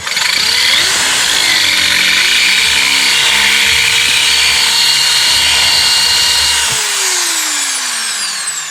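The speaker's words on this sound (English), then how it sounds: "we'll drill it out and pop an easy out in it" A power drill whines loudly and steadily for several seconds as it drills out a bolt at the back of an engine, its pitch shifting slightly under load, then spins down and stops.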